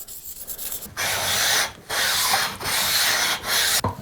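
Bursts of abrasive rubbing as a stone is worked flat on a DFM Toolworks diamond lapping plate, finer grit, four steady strokes separated by brief pauses, close and fairly loud.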